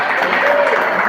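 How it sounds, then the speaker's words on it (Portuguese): Applause fills a church service, a steady wash of clapping from the congregation lasting about a second, with a voice carrying over it. "Mais palmas de Jesus."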